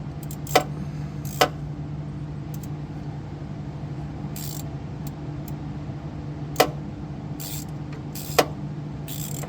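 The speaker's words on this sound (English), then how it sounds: "clicking sound when you turn your pump on" A Velit diesel heater fuel pump installed under a passenger seat ticks with sharp, isolated clicks spaced irregularly several seconds apart over a steady low mechanical hum.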